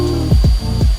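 Wooden truss being trimmed down with a power tool while building a wind deflector for a DIY pop-up camper on a Ford Maverick: a sustained tool drone breaks into three quick, repeated downward-sweeping cuts, loud and close.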